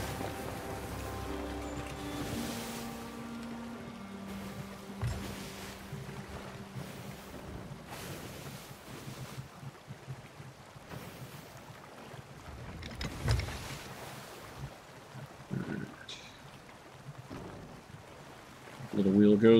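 A sailing ship at sea in Sea of Thieves, with steady wind and ocean waves washing against the hull, a low constant rush broken by a few louder swells and a sharp burst at the very end.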